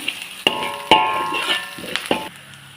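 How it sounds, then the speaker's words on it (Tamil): Curry leaves sautéing in a pan as they brown, with soft sizzling broken by several sharp metal spatula clanks and scrapes against the pan, no talking. "கடைசியாக கருப்பிலை சேர்த்துக்கோங்க. நல்லா கொஞ்சம் ப்ரௌன் கலர் வரைக்கும் கொஞ்சம் நல்லா வதக்குங்க."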